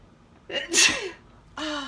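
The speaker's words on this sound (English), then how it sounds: "Sorry, I gotta sneeze." A single close sneeze, a sharp sudden burst with a breathy intake before it, followed by a short vocal sound.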